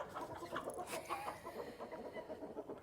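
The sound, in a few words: roosters clucking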